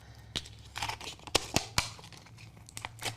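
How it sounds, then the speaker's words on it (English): Tape being peeled off a sublimated mug after a mug press, heard as close, quiet crinkling and tearing with several sharp rips spread over a few seconds. "So we're just peeling this up, getting all of the tape off."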